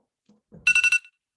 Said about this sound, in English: My alarm keep going off.